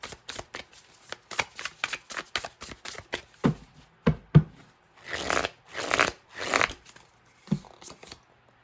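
Tarot card deck being shuffled by hand, a string of quick papery riffles and soft slaps with short pauses, close and fairly quiet.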